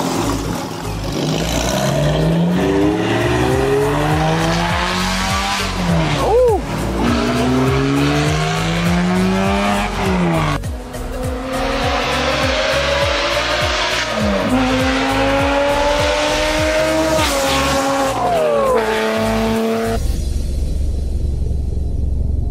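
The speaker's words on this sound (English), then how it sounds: "Excited to hear how loud your car's gonna be?" A loud Subaru car accelerates hard, its engine revving up through rising pitch with tire squeal layered on top, sustained for around twenty seconds before cutting off abruptly.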